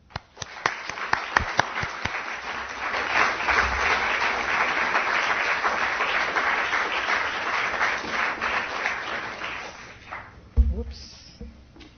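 A lecture-hall audience at a talk on cities, climate change and Christianity applauds steadily for about ten seconds to welcome Professor McFague, then fades into a brief thump and quiet.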